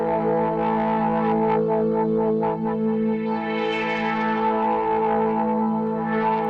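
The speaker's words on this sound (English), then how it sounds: "This is the Fat Effects using the Filthy Strings preset." A dense, distorted string-synth pad from Logic Pro X's Fat Effects, Filthy Strings preset, with bandpass and distortion, holds a thick sustained chord, gritty and buzzing, with shifting swells and no voices.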